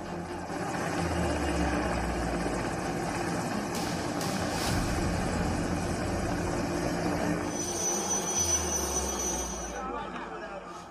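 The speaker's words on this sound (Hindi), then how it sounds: "शदीद बारिश के बीच हेलीकॉप्टर की मदद से लोगों को एयरलिफ्ट किया जा रहा है।" A rescue helicopter airlifts people during heavy flooding rain, its rotor thrum and engine drone rising and falling at moderate distance, with a voice speaking over it.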